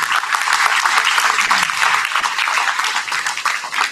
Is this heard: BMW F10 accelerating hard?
no